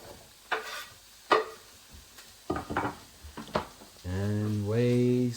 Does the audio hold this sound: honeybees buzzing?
no